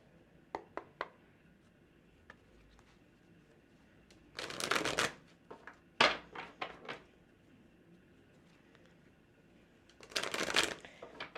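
Tarot cards being shuffled at close range: a few light taps, then three separate riffling bursts of rapid card flutter with quieter card handling between them, and no speech.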